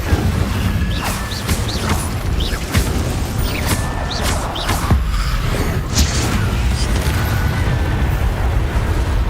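Repeated fiery bursts and booms from the Incendio fire spell in Hogwarts Legacy crackle and thump at irregular intervals over a dense game soundscape of rumbling effects.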